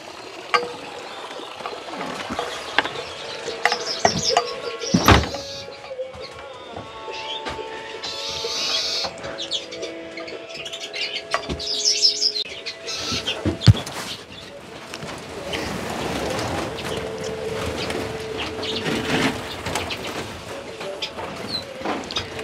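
Pet birds in an outdoor garden aviary with a pond and greenhouse nearby, cooing and chirping on and off, with scattered knocks and flutters and low shuffling throughout.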